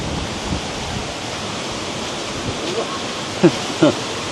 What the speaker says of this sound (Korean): 바람소리 죽인다.